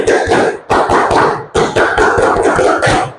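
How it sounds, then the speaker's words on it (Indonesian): A group of Pramuka scouts performs the scout clap in two rounds, each a rapid burst of loud, rhythmic hand claps. A brief gap separates the bursts and no one speaks. "Coba 2 kali tepuk pramuka."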